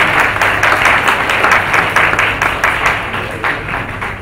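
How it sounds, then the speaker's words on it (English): Audience at a Christmas celebration in an ecumenical Christian centre applauds a cake presentation to the director, with dense, steady clapping from many hands filling the room throughout, close and loud with no speech. "Give a round of applause."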